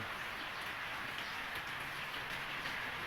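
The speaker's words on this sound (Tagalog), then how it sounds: "hanggang ngayon umuulan pa rin" Steady rain falls outdoors in a constant, even hiss, faint and unbroken, with no voices.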